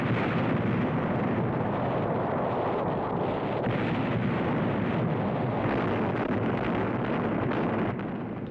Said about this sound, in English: shells exploding above sound like distant thunder. It's a real morale builder, big guns booming.